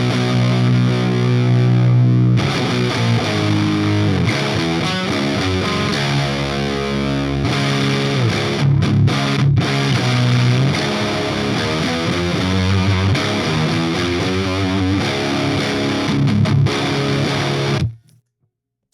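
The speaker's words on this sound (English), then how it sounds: "this is the Orbiter Fuzz all the way up into that exact sound" Electric guitar played through a SoloDallas Orbiter Fuzz pedal with the fuzz turned all the way up, a loud, thick, harmonically rich distorted tone holding sustained chords and riffs for about eighteen seconds before cutting off abruptly.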